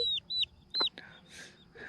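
Young chicks on a small beginner homestead, including a possible gold laced Wyandotte cross, give three short, high, clear peeps close by with a few softer chirps and faint cheeps after them.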